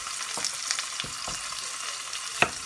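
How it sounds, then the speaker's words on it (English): Meat searing in a pot for pot roast, a soft steady sizzle close by with a few light clicks and one sharper knock near the end. "while the meat's searing, I'm going to get these vegetables ready"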